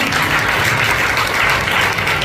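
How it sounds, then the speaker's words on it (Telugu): An audience at a motivational speech event claps for a woman on stage, a dense and loud burst of applause that continues evenly throughout. "అమ్మా ఒకసారి క్లాప్ కొట్టండి మేడంకి."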